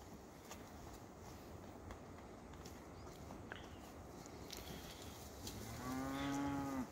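A single deep, drawn-out moo rises near the end over quiet outdoor background noise with faint scattered sounds.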